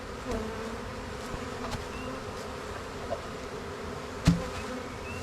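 Honey bees buzz steadily around the outside of a hive, a soft continuous drone with a few individual insects passing close and briefly louder, and no talking.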